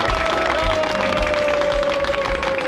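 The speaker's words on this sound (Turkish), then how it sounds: "Alkışlayalım beyler." A group claps and cheers loudly as a plane lands, sustained applause from close by with a steady engine-like whine running underneath.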